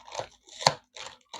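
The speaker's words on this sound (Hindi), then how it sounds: "इसके बाद एक और पन्नी भी दिया हुआ है इन्होंने, काट के निकाल लेता हूँ" Plastic wrapping around a new banjo being cut and torn open, four short crinkling, snipping bursts separated by brief silences, close and fairly quiet.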